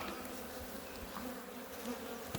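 Honeybees buzz continuously in a close, dense hum around an opened hive, as though a swarm is busy right nearby.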